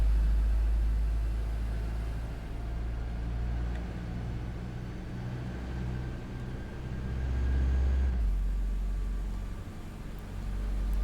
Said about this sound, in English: I do quite like the engine sound.